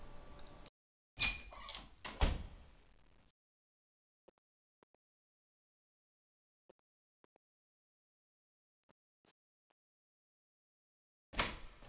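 A door opens in the video game The Dark Eye: a few loud bursts at the start, then near silence with faint scattered ticks, and another burst at the end.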